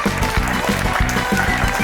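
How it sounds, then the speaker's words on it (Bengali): A studio audience on a Bengali TV game show claps steadily for a short stretch, the applause mixed with rhythmic background music. "হাততালি হোক জনতা"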